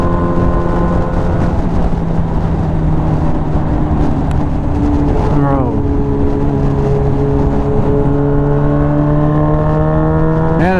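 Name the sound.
classic Honda car driving at higher speed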